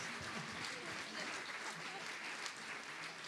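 An audience at a sports awards night in Digne-les-Bains claps steadily, a dense continuous round of applause from a crowd with faint voices mixed in.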